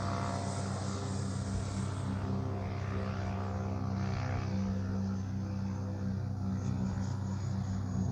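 A FlyFans L-39 RC model jet passes close by outdoors on a windy day, a continuous loud whining turbine-like drone that holds steady throughout with no talk.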